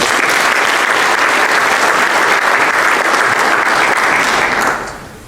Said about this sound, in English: please give a round of applause to the outstanding senior nominees